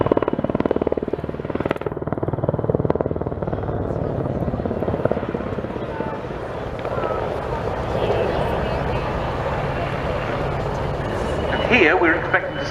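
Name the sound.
helicopter performing manoeuvres at RIAT 2022 airshow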